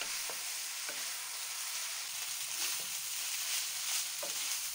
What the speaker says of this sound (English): Add the rice and the seasoning sauce. Stir for 4 minutes.